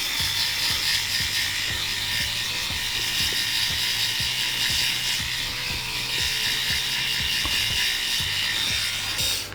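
A Groomie BaldiePro electric head shaver runs steadily while shaving a head, a constant close-up motor buzz with a faint ticking, rattling mechanism underneath and no talking.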